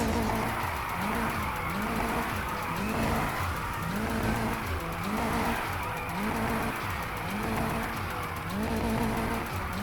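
A Nissan 350Z drifts in Need for Speed Heat on PS4, engine revving in repeated surges with tire squeal sliding through each turn, a steady rhythm across the whole stretch.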